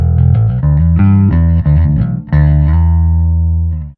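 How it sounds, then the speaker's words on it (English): Both pickups on an Epiphone Thunderbird Classic IV Pro electric bass: a run of plucked notes with deep, full low end and ringing overtones, ending on a long sustained note that fades away, played alone and close. "So this is the sound with both the pickups activated."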